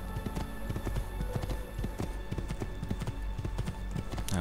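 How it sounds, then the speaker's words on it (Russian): Horse hooves clip-clopping in the video game Assassin's Creed II, a steady rapid galloping rhythm of close, loud hoofbeats over ambient game sound. "О, еще лошадка."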